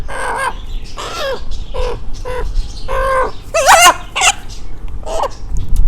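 A rooster with an eye infection being handled for treatment, giving a series of repeated squawks and clucking calls, one rising into a shrill distressed cry, close and loud with no talk.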